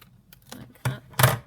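Scissors trim paper at the edge while making pockets and tuck spots, two or three crisp close snips in quick succession, the last one loudest, with no talk.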